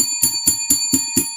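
A small bell rings six times in quick, even succession, each strike bright and sharp with a ringing tail, loud and close.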